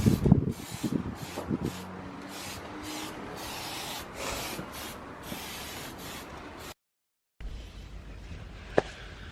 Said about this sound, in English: spraying the engine bay, just protecting it so it doesn't get rusted in the rain